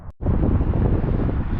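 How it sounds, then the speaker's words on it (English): Strong wind blusters across the microphone on an exposed hilltop above a city. It makes a dense, steady low roar after a brief gap at the start, with no voices. "Unfortunately, this does tend to catch the wind up here a bit."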